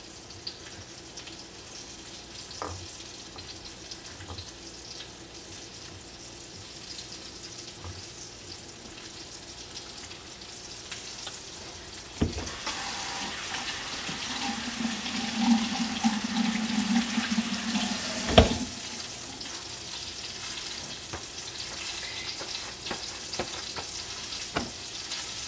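Mahi mahi fillets going into a hot pan for frying, with a loud sizzle rising around midway and holding steady as the fish cooks, near and with no talk.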